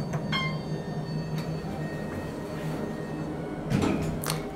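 An Otis Series 2 hydraulic elevator at a resort hotel travels down with a low steady hum and faint rumble, followed near the end by a clunk and rattle of the car or doors.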